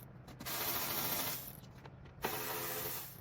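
A ratchet works on 10mm bolts holding a truck grille, giving close bursts of rapid clicking with a pause between strokes.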